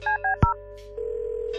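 A telephone keypad in the game Kathy Rain gives several short dialing tones in quick succession, followed by a click and a steady ringing or dial tone, loud and close, with no talk.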